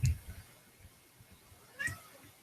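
A cat gives two meows, the first loud and close at the start and a second, shorter one near the end, with quiet room noise between.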